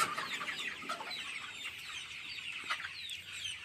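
Hens of a Padma Hatchery broiler flock cluck and chatter continuously at moderate loudness inside a poultry farm shed, many birds overlapping with no voices.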